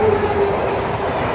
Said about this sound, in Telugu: ముంబై భువనేశ్వర్ కోనార్క్ ఎక్స్ప్రెస్